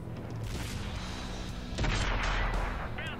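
Tank shell striking and glancing off armor in World of Tanks, a heavy boom with a metallic crash rising midway over a rumbling battle din, loud and close.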